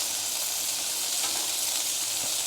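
White onions caramelizing on a hot griddle give a steady, close sizzle, an even frying hiss that holds without a break and has no talk over it.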